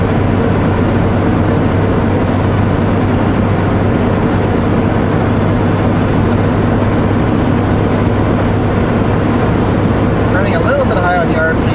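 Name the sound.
Kenworth W900L 500hp truck engine revving at 2,000 RPM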